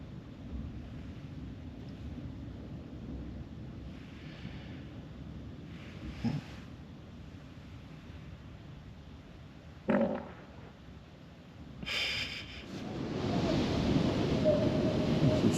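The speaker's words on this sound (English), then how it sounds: "Some serious splashing going on." Sea waves at Southwold splashing over a sea wall, heard as a low wind-buffeted rumble broken by sudden bursts of spray around the middle, then a louder, sustained rush of water at the end.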